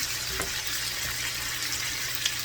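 Stuffed jalapeño chicken breasts fry steadily in a large pan, giving a continuous close hiss and crackle with a few small pops, no voices.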